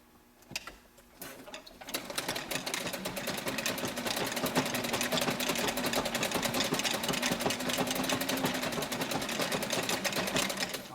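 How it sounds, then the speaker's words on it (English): A sewing machine stitches down the sides of a fabric reusable tea bag, starting after a few clicks and then running in a fast, even, close-up rhythmic whir for about nine seconds. "Okay, so now I'm going to fold this and stitch down these sides."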